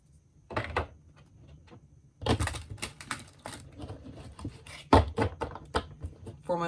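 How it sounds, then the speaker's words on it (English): Crisp bursts of tarot card shuffling, riffles and taps in quick clusters, close and fairly quiet with pauses between. "One more shuffle."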